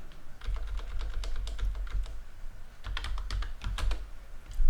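Typing on a computer keyboard while coding an Angular 19 application, a quick run of light, crisp key clicks in short bursts, close and fairly quiet.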